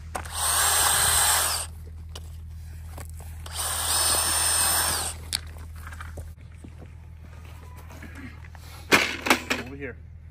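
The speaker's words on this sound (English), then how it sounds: "so I have to pre-drill holes there to screw into there" A power drill pre-drills screw holes in a greenhouse board outdoors, two loud sustained bursts of whine a couple of seconds each, followed by quieter handling sounds and a person speaking.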